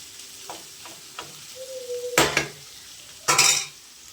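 A spoon scrapes and stirs chicken fry bagara rice in a pan, with a few soft knocks, then two loud clattering sweeps against the metal over a faint sizzle, close up and without speech.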